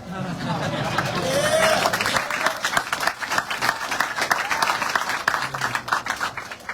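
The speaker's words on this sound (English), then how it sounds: "we've had some real polite applause for a number of folks" Crowd applause at the ribbon cutting and opening of a bike park in Joplin, starting over murmuring chatter and swelling into dense, steady clapping from many hands that carries on to the end.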